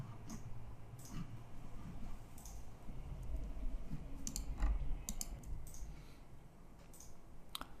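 Several quiet, sharp computer mouse and keyboard clicks ticking at irregular intervals over a low steady hum, close and faint, with no voices.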